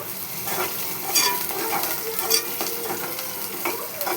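Cabbage curry with ginger paste and turmeric frying in a pan, a steady sizzle broken by repeated scraping and clinking strokes of stirring, close and moderately loud with no talking.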